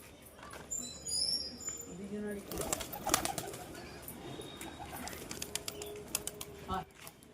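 Pigeons coo softly at close range, with a few brief chirps, scattered clicks and light rustling around them.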